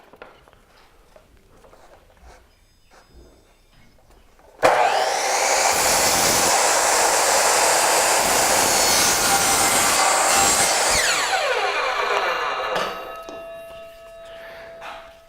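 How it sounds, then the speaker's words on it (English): A power saw spins up and bites into a trim piece set at a 45-degree angle, giving a loud, steady whining cut that lasts several seconds and then winds down to a fading hum, after quiet handling noises. "you set your saw to a 45-degree angle"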